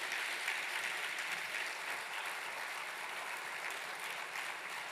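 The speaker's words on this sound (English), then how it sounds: "Can we clap for the president as he's taking leave?" An audience at a basic education sector gathering applauds the departing president, a dense steady wash of clapping from a crowd, heard at a distance and sustained throughout without speech.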